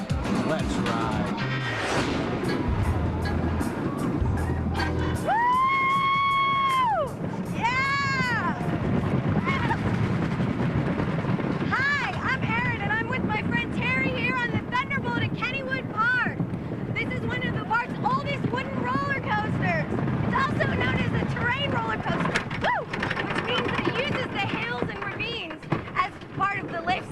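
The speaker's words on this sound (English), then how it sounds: "Kennywood's famous Thunderbolt" Kennywood's Thunderbolt roller coaster ride, heard from aboard: steady rushing wind and rumbling track noise throughout, loud and close, with whistling tones and excited voices over it.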